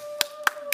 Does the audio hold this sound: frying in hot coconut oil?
no